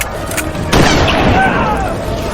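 A rifle shot from an audio drama booms loudly and close, its blast ringing out and slowly fading over a low rumble.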